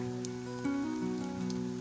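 Steady rain falls with a continuous hiss, mixed with soft sustained musical tones.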